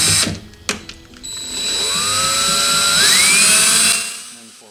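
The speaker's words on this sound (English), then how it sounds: "Backwards drilling." A power drill bores backwards into the neck joint of a Gibson Hummingbird acoustic guitar during a neck reset, a close, loud whine that rises in pitch and holds for a few seconds after some short clicks, then stops.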